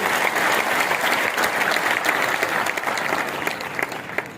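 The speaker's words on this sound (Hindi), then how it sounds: "एक बार जोरदार ताली बजा के माननीय मंत्री जी का स्वागत कर लीजिए" A roomful of delegates at a state-level convention of village panchayat officers claps loudly to welcome the minister, a thick, steady ovation that tapers slightly toward the end.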